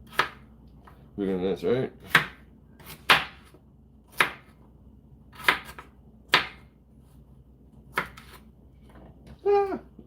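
A knife chops through a beet on a cutting board in sharp, separate strikes at an uneven pace, close and crisp, with a person's voice briefly heard between cuts.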